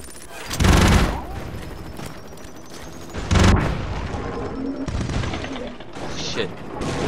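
Rockets explode in the Broforce video game as loud booms recurring every few seconds, each followed by crackling blasts and gunfire-like rattle. Voices talk underneath.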